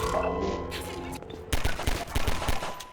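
A rapid burst of gunfire in Half-Life 2 played at double speed, sharp repeated shots in quick succession after a stretch of game noise and hum.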